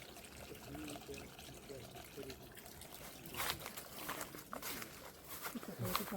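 Water trickles steadily from a drinking water supply at a mango orchard, a soft continuous splashing with faint distant background noise and occasional louder gurgles.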